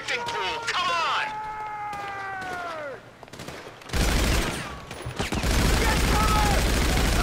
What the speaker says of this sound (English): We're receiving fire!